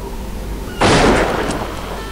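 A single loud, sharp gunshot in the Deadly Dozen war video game breaks a quiet background and then trails off in a short, fading echo.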